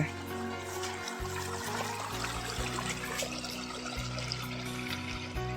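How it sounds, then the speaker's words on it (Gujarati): Water gushes steadily from a pump outlet on a farm in a continuous splashing flow, with a motor hum underneath and a voice speaking over it. "પાણી તો બરાબર આવે"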